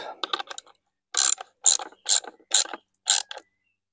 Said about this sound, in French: Je vais mettre un petit coup de cliquet pour bien le serrer.